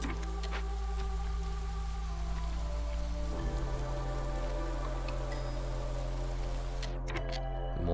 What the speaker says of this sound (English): the drizzle just started